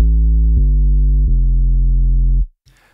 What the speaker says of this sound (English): I am adding this sub preset from Silent One,